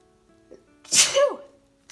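A single sudden sneeze, caused by dust from an old album, bursts out loud and close after a brief breathy intake, then fades quickly into quiet.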